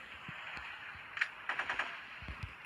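Rapid bursts of gunfire in the mobile shooter Modern Sniper, a quick cluster of sharp shots in the middle, fairly faint over steady background hiss, with no talking.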